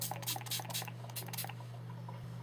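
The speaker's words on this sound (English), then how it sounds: "So I just spray that onto my sponge until it's damp." Several quick bursts of setting spray hiss in a row onto a makeup sponge, close by, then quieting to a faint background hum.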